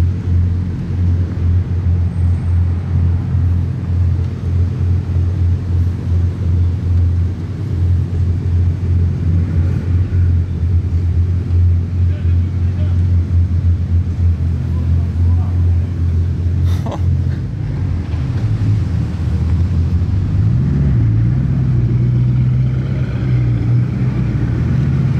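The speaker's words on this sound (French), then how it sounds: "Le vrombissement, il est juste énorme là actuellement." Bugatti supercars gathered in Monaco, including Mistral, Chiron and Veyron models, their engines giving a loud, sustained low roar and rumble that swells near the end, with talk over it.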